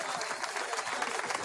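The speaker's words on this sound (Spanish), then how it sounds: "Luis Paiva, un aplauso a Luis Paiva desde aquí." A short burst of audience applause during a televised national broadcast in Venezuela, dense clapping throughout with a faint murmur of crowd voices mixed in.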